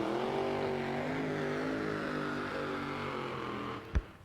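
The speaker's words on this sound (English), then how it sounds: "All right, here's Tony in the second Castrol car" A Castrol-sponsored drag racing car roars at an NHRA drag race, a loud, sustained engine drone with shifting pitch running the whole stretch, then a sharp thump near the end.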